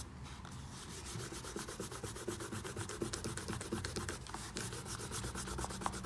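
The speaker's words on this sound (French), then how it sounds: "on peut gommer nos traits de construction. Pour ça, j'utilise la gomme Faber-Castell noire plastique." Black plastic Faber-Castell eraser rubbing out pencil construction lines on drawing paper: quick, close, quiet back-and-forth scrubbing strokes repeating rapidly and steadily for several seconds, heard alone.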